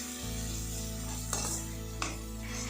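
Tomato and spice masala with turmeric, chilli powder and curry masala powder sautés in a pan, giving a continuous close sizzle with two brief scraping stirs of a spatula.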